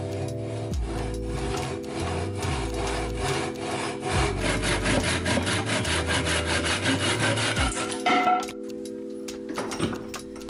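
A handsaw cuts a wooden dowel blank to length at 16 inches, with steady back-and-forth rasping strokes running loud and close for about eight seconds before stopping, then a few light knocks.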